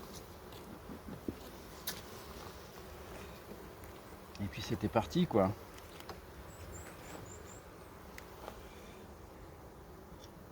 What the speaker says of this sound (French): il y a des abeilles partout